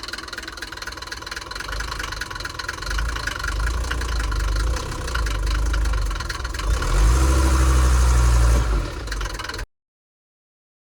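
A Mercedes T1 van engine idles cold in the morning with its engine cover on, a close, loud knocking chug with clattery upper tones, rising briefly louder near the end before cutting to silence.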